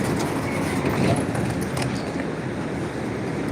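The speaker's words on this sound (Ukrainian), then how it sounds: "Тож трамвай виїжджає." A tram pulls out on a city line, a steady broadband rumble of wheels and motor with faint rail clatter, fairly close and continuous, with no talk over it.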